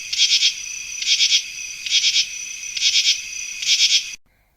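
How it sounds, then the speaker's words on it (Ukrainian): Grasshoppers chirp in a meadow in five regular buzzing bursts, each about half a second long with short gaps between, loud and close with no voices, ending abruptly in silence. "стрекоче, Коників на лугу багато, цілий струнний оркестр."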